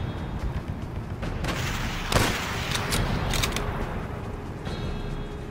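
Rifle and machine-gun fire in Call of Duty: World at War, scattered sharp shots cracking over a busy battlefield bed, one especially loud close report near the middle, with no talking.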